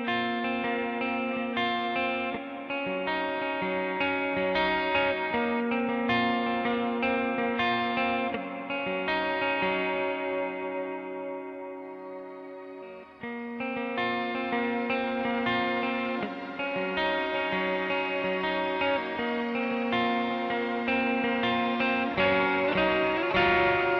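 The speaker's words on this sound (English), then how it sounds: "the shim knob sets the level of the shimmer effect" Electric guitar chords ringing through a lush shimmer reverb pedal, the Seraphim Shimmer, with bright octave-up trails swelling and sustaining between strums, playing alone.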